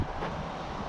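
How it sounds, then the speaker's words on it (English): Strong gusty wind buffets the microphone at an outdoor workshop where a 1968 Dodge C500 LCF truck is being fitted with a Cummins engine, a loud steady rumble with no other sounds. "we were nice and windy today, so got a pretty good breeze going on here"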